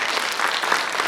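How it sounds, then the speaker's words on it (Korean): Audience applause at a housing cooperative project briefing, dense steady clapping from a crowd throughout, loud and continuous without speech. "오랜만에 박수 한번 주세요"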